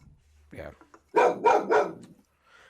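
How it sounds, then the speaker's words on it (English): A dog barks three times in a quick, loud burst close by, following a short word from a person; a faint trailing sound fades out afterward. "Oh wait, that's the dog."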